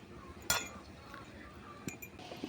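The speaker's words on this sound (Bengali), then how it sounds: "আর একটা বাটি নিয়ে নিচ্ছি" A bowl is picked up and set onto a glass while making steamed bhapa pitha, giving one sharp, bright clink followed by a few faint small knocks.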